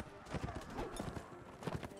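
Horse hooves clip-clop in quick, uneven beats in the video game Mount & Blade Warband, mixed with battle noise and someone talking over them.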